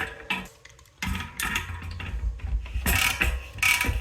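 A SRAM 13-speed cassette is threaded onto a bike hub, giving soft clicking ratchet and metal scraping sounds in short bursts, close and fairly quiet.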